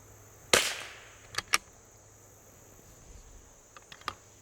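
A single sharp crack of an L3I Stinger .22LR rifle fired outdoors at a match range, followed by a few fainter clicks and taps against steady background hiss and insect noise.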